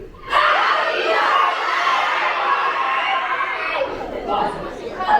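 A school assembly crowd of children for veterans yells happy birthday together in one loud, sustained roar of mixed shouting and screaming that lasts about five seconds.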